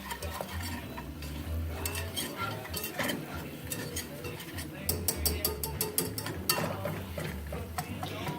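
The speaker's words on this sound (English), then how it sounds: "you're just gonna wanna keep whisking until everything is well incorporated" A whisk working flour into a roux in a pot, a quiet continuous stirring with light rhythmic metal clicks and scrapes, growing slightly busier toward the end.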